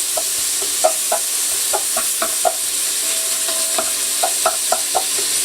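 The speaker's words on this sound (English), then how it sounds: "Just throw that bacon in the pan." Bacon sizzles steadily in a frying pan for a seafood chowder, a bright continuous hiss with scattered light pops and a few soft scrapes, close and fairly loud.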